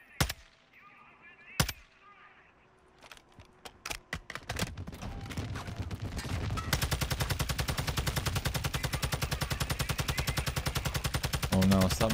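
In the video game Call of Duty DMZ, gunfire starts as scattered single shots and bursts, then becomes sustained rapid automatic fire for the second half, loud and continuous, with faint background sounds.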